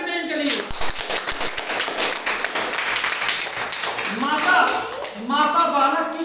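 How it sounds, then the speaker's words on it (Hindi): Students in a classroom break into brisk, dense clapping that runs throughout, with a teacher's voice speaking over the applause. "ताली बजाइए इनके लिए।"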